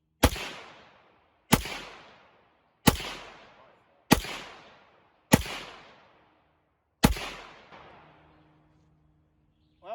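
Six loud rifle shots from a Punisher build chambered in 300 Blackout, fired at a quick, fairly even pace about a second and a half apart, each a sharp crack with a short decaying echo, the shooting standing alone without talk.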